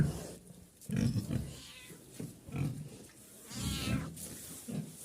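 A pig grunts and snuffles repeatedly while feeding, with soft chomping and rustling close by, irregular bursts of low sound.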